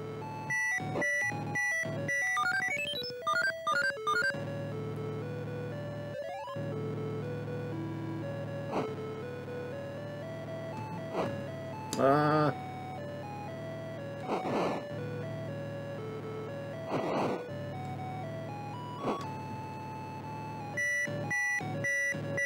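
Electronic beeps and chiptune tones from the Atari 2600 driving game Bump 'n Jump, stepping through short pitched notes with a few sharp bursts, playing steadily and fairly loud with no talk.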